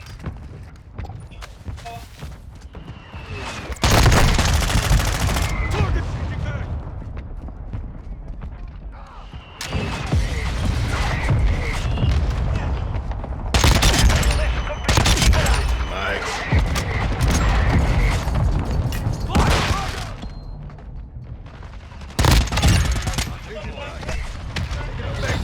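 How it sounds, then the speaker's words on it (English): Heavy mortar blasts and bursts of gunfire in a military shooter game, loud broadband impacts recurring every few seconds over continuous rumbling battle noise, with voices talking through it. "Hostile mortar strike near your position."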